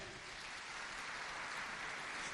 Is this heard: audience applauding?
yes